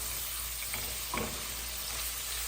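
Paneer tossed in a white gravy in a pan while cooking Nawabi paneer: a soft, continuous sizzle with a couple of faint scraping stir sounds near the middle, fairly quiet and alone.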